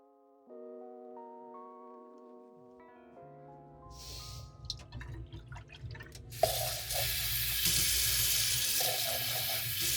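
A sink tap runs as paint water is changed out, starting after a few soft tones and clatters and building into a loud steady gush of water that continues to the end.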